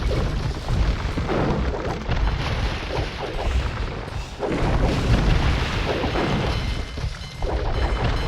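Cannon galleons fire their cannons in the Age of Empires 2 HD naval battle, a continuous heavy rumble of booms and blasts that swells and dips over several seconds with no voices.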